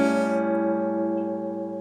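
A sustained acoustic guitar chord rings out steadily in a Delta blues style, playing a part of a song with no singing over it. It is close and even and fades slightly toward the end.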